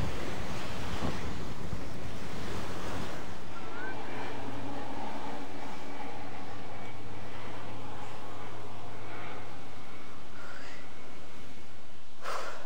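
Ocean surf washes steadily on a Maldives island beach, with wind buffeting the microphone and a continuous low rumble as someone walks along the sand.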